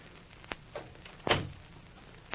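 Door being shut and locked as a radio drama sound effect: a light click, then a firm thunk of the door closing with a brief latch rattle, isolated in a quiet room.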